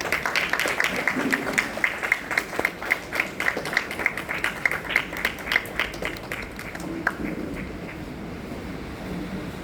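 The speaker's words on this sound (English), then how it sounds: "Kindly keep the applause going." An audience applauds at a college conclave, sustained clapping that is loud and close at first and then thins out and fades toward the end.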